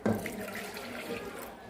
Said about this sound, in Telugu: సేమ్ కప్పుతోనే 2 కప్స్ అనేది వాటర్ యాడ్ చేస్తున్నాను